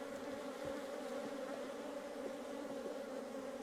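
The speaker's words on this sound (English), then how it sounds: "These bees are really busy and strong." Honeybees buzz steadily at an open hive during a frame inspection, a dense, continuous drone of many insects close by that never lets up, with no voices over it.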